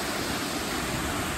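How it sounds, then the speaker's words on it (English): Steady, dense rushing roar of a waterfall seen from above on a sunny day outdoors, constant and fairly loud with no other sounds or voices. "Goddamn waterfall."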